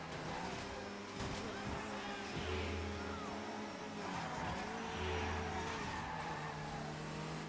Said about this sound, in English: My favorite part about the Skyline R34 is when it sounds like a vacuum.